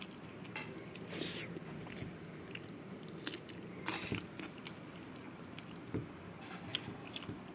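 Close, quiet chewing and biting during a home meal of dal and boiled potato with chilli, soft crunchy and moist mouth sounds in irregular bites.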